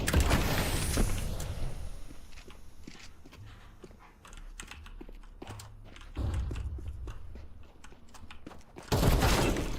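Gunfire and clattering action from a Counter-Strike 2 match, with a grenade and incendiary thrown amid rapid sharp clicks and shots, low rumbles between, and a loud burst of fire near the end.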